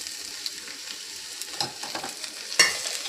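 Radish leaves fry in a pan with onion, garlic and curry leaves, giving a soft, steady sizzle broken by occasional spatula scrapes and one sharper clink, with no one speaking.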